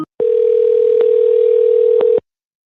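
A steady, loud telephone dial tone after a phone is hung up by mistake, sounding alone for about two seconds before cutting off.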